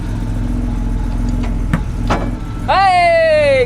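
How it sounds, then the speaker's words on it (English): Aston Martin DB4 GT engine idling steadily up close, with a couple of short mechanical knocks from the gearbox going into first, then a sharper rising engine note near the end. "When I hear it clunk, I'm in first gear."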